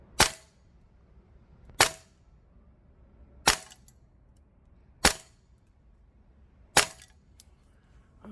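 Tokyo Marui URG-I Block 3 MWS gas blowback airsoft rifle firing 0.2 gram BBs on green gas at a range, five sharp, loud single shots at even intervals of about one and a half seconds, with quiet gaps between.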